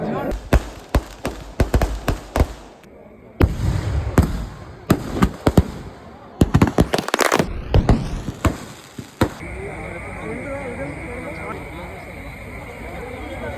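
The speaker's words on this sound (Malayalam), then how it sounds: "ഇനി വെടിക്കെട്ട്" Rapid bursts of fireworks crack and bang in quick succession, loud and close, at the Mavilayi festival in Kannur, Kerala, followed by a lingering crackling hiss and distant background noise.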